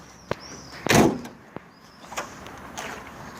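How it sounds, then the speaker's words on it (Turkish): A modified Tofaş Toros car with a locked door, tried once: a sharp click, then a brief rattling pull of the handle and latch, followed by a few fainter clicks nearby. "kapıyı kilitlemişiz şu an açamadık"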